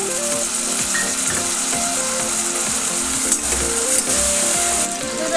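Onions and tomato fry in a pan for a mushroom biryani, giving a steady, close sizzle with occasional scraping clicks of stirring.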